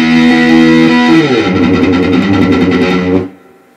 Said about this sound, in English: you kind of mute it with your palm down low